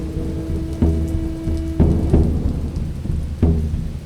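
Steady rain falling with rumbles of thunder, several deep booms rolling in over the constant hiss of the downpour, fairly close and loud.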